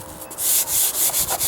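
Hand sanding of primer on a wooden deck step, with close scratchy strokes in a quick back-and-forth rhythm, loud and alone.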